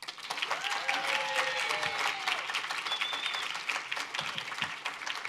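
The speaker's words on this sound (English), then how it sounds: "So please join me in giving a round of applause for the 2025 Impact Award winner, Jodi Newmark." Sustained audience applause at an award ceremony for a 2025 Impact Award winner, dense and steady throughout with a few cheers and whoops rising over the clapping.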